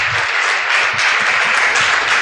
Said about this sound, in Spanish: Un aplauso al Señor, aleluya, fuerte, fuerte.